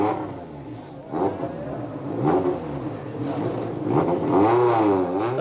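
A Tiga-Ford race car at the 1985 Le Mans 24-hour race pulls away from the pits. Its engine revs climb and fall in repeated sweeps through the gears, loud and close over a rough background roar.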